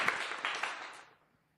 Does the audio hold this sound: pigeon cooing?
no